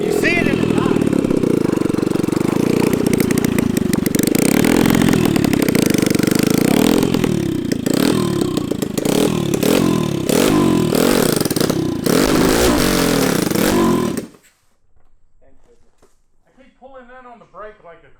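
Small gas engine from a Walmart toy F1 car converted into a go-kart revs hard and clatters through donuts, loud and up close for about fourteen seconds before cutting out, followed by faint voices talking.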